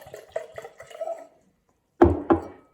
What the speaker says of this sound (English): And then I pour, you'll see how much I pour. I pour about an inch,